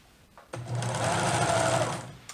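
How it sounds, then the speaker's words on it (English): A sewing machine stitches the front of a shirt, starting abruptly with a steady, fast, whirring run of close stitches for about two seconds, loud and near, then stopping. "I'm sewing with the front of the shirt on top, right sides together."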